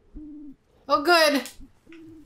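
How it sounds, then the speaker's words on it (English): In the game Mooseman, a great owl gives a deep hoot, then a brighter rising call, and another low hoot follows, each clear and close in a quiet scene. "Everybody's gonna go see the great owl."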